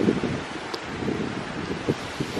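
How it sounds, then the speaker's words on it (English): Hurricane Irma wind gusts, a steady outdoor rush with low buffeting thumps against the microphone, moderately loud and without voices. "You can still see the gusts of wind coming in."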